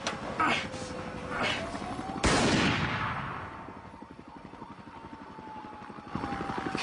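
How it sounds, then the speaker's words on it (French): A sharp, loud gunshot bang with an echoing decay, preceded by a few smaller bangs, over a low engine drone and background voices. "Banging, gunshots."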